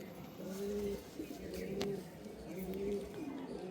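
Pigeons coo softly in repeated low, rolling calls, faint and a little distant against a quiet background.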